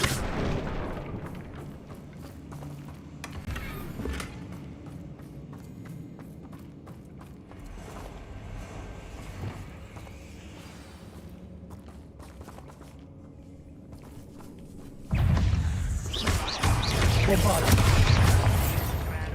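A Bombarda spell explodes in Hogwarts Legacy on hard mode, bursting into a loud, broad blast near the end after a long stretch of low game rumble and scattered clatter.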